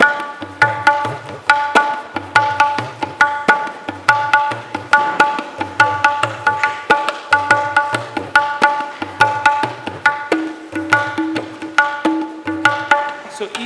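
Tabla with baya and daya playing a steady garva rhythm in 4/4: repeating patterns of crisp high strokes over deep bass strokes, close and lively, with no talk.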